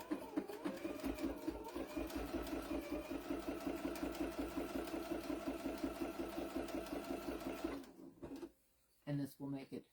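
Sewing machine top stitching around a fabric clamshell taco pouch, a rapid steady mechanical chatter running for several seconds before stopping, followed by brief quiet handling noises.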